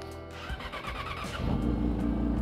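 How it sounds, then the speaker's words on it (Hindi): Yamaha R6 sport bike at an auto show in Bahria Town, cold-started close by: a brief cranking rattle, then the engine catches and swells into a loud, steady, throbbing idle, with no talking. "ओके कोर स्टार्टअप मैंने कर दिया है, बाइक कोर स्टार्टअप हो रही है।"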